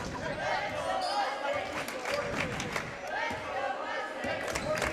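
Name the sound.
Mustang home crowd cheering at basketball game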